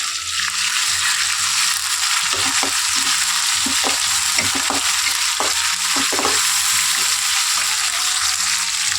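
Ginger garlic paste fries in a hot pan with a steady, loud sizzle throughout, broken by several sharp scraping stirs of a spatula in the middle section; no voices.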